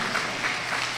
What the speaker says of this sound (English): Give Eric a round of applause